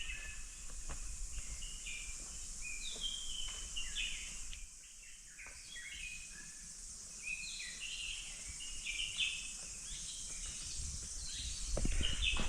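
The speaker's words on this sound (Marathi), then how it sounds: "इतकी शांतता आहे की या पक्ष्यांचा किलबिलाट सुद्धा ऐकायला येतोय" Small birds chirp and twitter in a quiet forest near a Vishnu temple in the coastal Ratnagiri region, scattered calls at middle distance over a faint insect hum, no voices.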